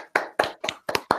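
Five sharp hand claps ring out close and loud, one at a time, at a steady, slightly uneven pace with short silences in between.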